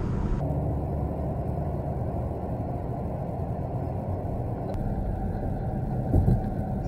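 A car cruising at highway speed, about 79 mph, on a Texas highway, giving a steady loud road and engine rumble throughout with tire noise and a brief bump near the end.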